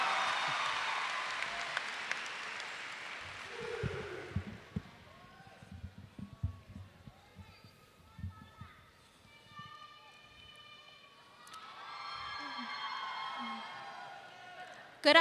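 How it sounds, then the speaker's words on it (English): Audience applause and cheering for a student speaker at the Henry J. Kaiser High School Class of 2022 graduation, a broad wash of clapping that fades into scattered shouts and whistles from the crowd, then a brief swell near the end. "can we give Precious a big round of applause, please?"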